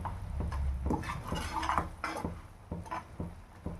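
Sugar syrup boiling in a pan for sweet potato halwa is stirred by hand, a steady run of scraping strokes and soft clinks of a spoon against the metal, close and fairly loud with no voice.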